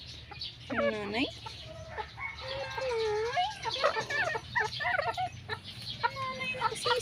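Mother hen clucking among her chicks, with repeated clucks and high peeping chirps scattered throughout, close by over a low steady background hum.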